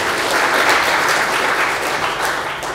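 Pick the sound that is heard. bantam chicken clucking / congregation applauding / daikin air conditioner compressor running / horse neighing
congregation applauding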